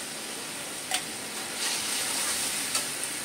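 Kashmiri red chili paste sizzles in a pan of hot oil for katla fish curry, a steady bright hiss throughout with a couple of brief crackling spikes, close and alone.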